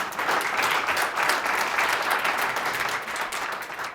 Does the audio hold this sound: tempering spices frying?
no